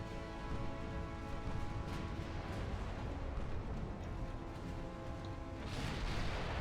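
Heavy 14-inch naval guns firing in Ultimate Admiral Dreadnoughts, distant rumbling salvos with scattered booms over a constant sea and engine drone, fairly faint and without talk.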